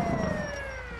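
An ambulance siren from the game GTA V wails briefly, a steady rising-falling tone with its pitch gently sliding downward as it recedes, heard over low traffic rumble.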